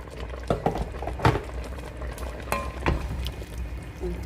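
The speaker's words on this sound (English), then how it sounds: "I think this needs some more water, so I'll be adding some more water." Soft bubbling liquid with a few light splashes and clinks, as water is poured into a simmering pot of Jamaican stew chicken; quiet, close, no talking.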